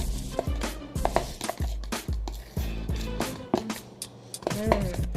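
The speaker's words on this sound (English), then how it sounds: "I'm just going to mix that in very well" Sugar cookie batter is mixed with vanilla, giving thick, repeated squishing and thudding strokes at an uneven rhythm, close and fairly loud, with no talking.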